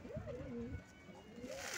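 Domestic pigeon cooing at close range in a loft of thief pigeons in Barcelona, a few soft rolling coos rising and falling over a steady low background hum.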